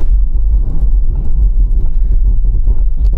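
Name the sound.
car emergency braking with ABS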